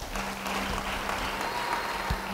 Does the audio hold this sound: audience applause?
yes